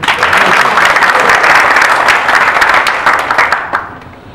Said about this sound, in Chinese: 那掌声